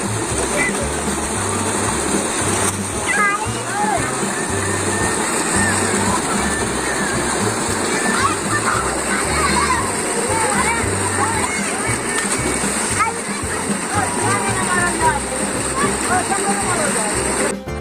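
Water splashing and sloshing in an outdoor bathing pit fed by cold water in a high hill area, a steady broadband wash throughout with children's voices and shouting mixed in.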